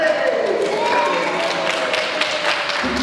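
An audience applauds a child named Lucas after he plays a small drum, a steady wash of clapping with a voice and a tonal hum running through it.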